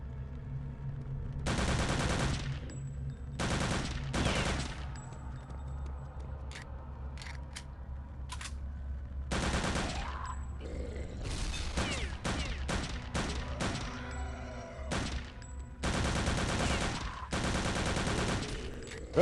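Bursts of automatic gunfire from the video game Return to Castle Wolfenstein, loud and close, with several long volleys broken up by short clusters of shots and brief pauses.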